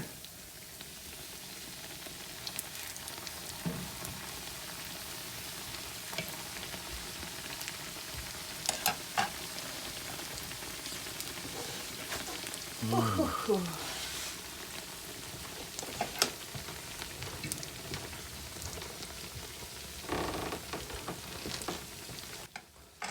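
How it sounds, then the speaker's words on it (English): Oil sizzles and crackles steadily as Yupik-style yeast-dough fried bread cooks, with scattered pops and bubbling, fairly quiet and without voices. "Hey, that's just frying away."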